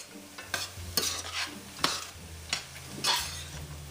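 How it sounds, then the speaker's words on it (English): Frozen peas stirred with vegetables in a pan for a tuna noodle casserole, several quick scraping stirs with a faint sizzle underneath, close and unaccompanied by talk. "I'm just going to stir them around"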